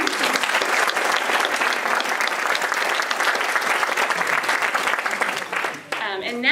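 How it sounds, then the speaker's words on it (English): An audience at a town hall event claps steadily for a team, a dense, sustained round of applause that fades briefly near the end before picking up again. "Round of applause for them."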